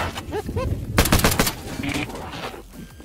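In the game Garry's Mod, a gun fires a rapid burst of sharp, close shots after a couple of honking, squawking noises, with a lingering tone as the burst ends.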